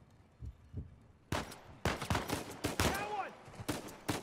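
Gunfire in Uncharted 4: A Thief's End, with a rapid string of sharp, close shots in quick bursts after a quiet start and a couple of soft thuds, while voices talk in between.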